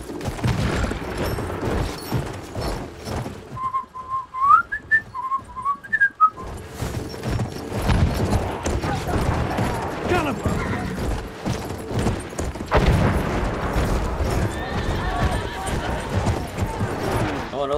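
Horse in the Battlefield 1 video game neighs and gallops amid battlefield noise, with distant gunfire, booms and whistling, while someone talks over much of it.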